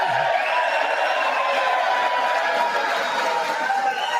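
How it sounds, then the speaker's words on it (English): Steady, dense applause and crowd noise fill a chamber during a State of the Union address, a continuous roar of many hands clapping at constant loudness with no pauses. "Yes, everybody's clapping."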